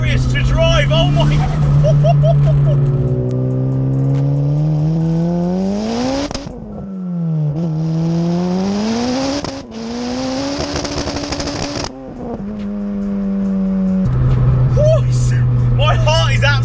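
A 440 bhp turbocharged Honda Civic Type R EP3 running 1.2 bar of boost accelerates hard from inside the cabin, with loud repeated rising engine pulls and gear changes between them, close and dominant throughout.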